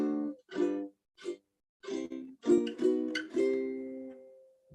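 Slow strummed chords close the Hawaiian song Ku'u Hoa, played as a few spaced strums that build into denser ringing chords and end on a long sustained chord.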